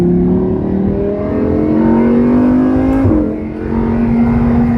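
A car engine on a racetrack hums loudly and steadily, then drops through the gears with a brief break and a shift in pitch around the three-second mark, continuing under load afterward.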